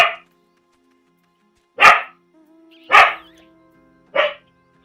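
A pet dog barks nearby during a Final Fantasy XIV game stream, four sharp separate barks spaced about a second apart with quiet gaps and a faint hum between them.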